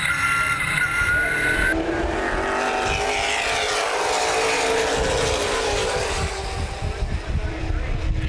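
NAPA late model stock cars race around Baer Field Speedway in a steady, loud engine roar with wind buffeting, a race announcer talking over the field as the cars run close together.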